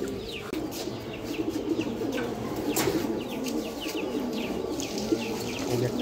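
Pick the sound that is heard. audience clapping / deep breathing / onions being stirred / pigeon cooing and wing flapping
pigeon cooing and wing flapping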